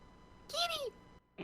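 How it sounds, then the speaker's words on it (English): A single short cat meow, bright and slightly falling in pitch, sounds close and fairly clear against a quiet background, with a brief voice starting right after. "And then she just meowed."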